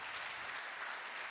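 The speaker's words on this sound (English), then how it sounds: "And I'd love to hear a round of applause." Faint, even audience applause at a conference talk on crypto use in Ukraine, a soft continuous patter heard from a distance with no breaks.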